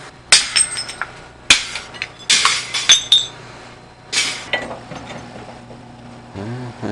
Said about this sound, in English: Tap of a hammer.